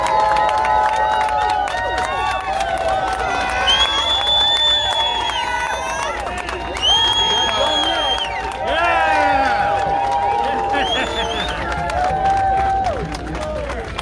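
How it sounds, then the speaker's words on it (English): A crowd at a New York cannabis parade and rally applauds and cheers, with loud sustained clapping, high whoops and shouted voices rising and falling over one another for the full stretch. "I want to hear a big, long New York round of applause for every single organizer who has pushed this through the years"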